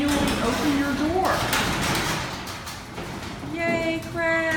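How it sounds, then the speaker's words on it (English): A residential garage door is pushed open by hand after its latch is released, a long rolling, rumbling slide with rattling panels, while people talk over it. "now you can manually open your door."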